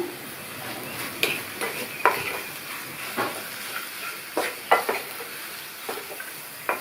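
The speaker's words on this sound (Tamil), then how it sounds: "உருளைக்கிழங்கு வதங்கிட்டு இருக்கும் போதே இதுக்கு தேவையான அளவு உப்பையும் சேர்த்து நல்லா வதக்கி விட்டுக்கணும்" Potatoes sauté with salt in a hot pan, a soft steady sizzle under repeated scraping and clinking of a spoon as they are stirred, close and moderately loud.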